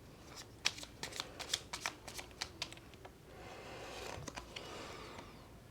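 Tarot cards shuffled by hand during a Hindi reading, a run of crisp, rapid riffling snaps and flicks up close, then a softer sustained rustle and a few final flicks, with no talk over it.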